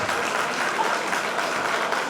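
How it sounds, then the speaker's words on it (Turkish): An audience at a real estate consultants' chamber celebration in Bursa applauds the chairman, a steady mid-volume wash of clapping for about two seconds with no talk. "Evet başkanımız için alkışlar."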